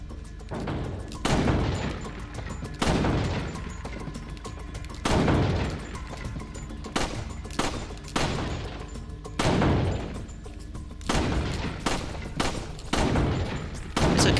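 Sniper rifle shots in Resident Evil 4 ring out as loud, sharp single blasts, about a dozen spaced a second or so apart, each with a booming tail and echo.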